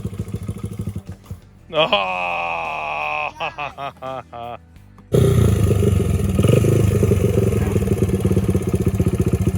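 A 2005 Honda CRF80 dirt bike engine idles and then revs up loudly and steadily as the rider pulls off, after a stretch of people talking and a brief exclamation.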